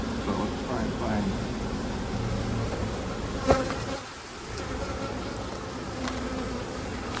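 Honey bees buzz around an opened hive as a super full of honey is taken off after a bear attack. The drone is steady and close, and voices talk over it.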